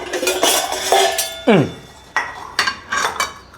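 A metal vessel is handled in a home kitchen while banana fritters are being made, giving several sharp, close clanks and scrapes in irregular bursts.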